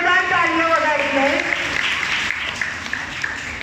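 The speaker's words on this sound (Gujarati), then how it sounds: "જે પણ સ્ટુડન્ટ છે એ બધા પોતાની માટે જોરદાર તાળીઓ વગાડી લે" Students at a temple study-class gathering applaud, a dense steady clapping that starts under a speaking voice and then carries on alone, moderately loud.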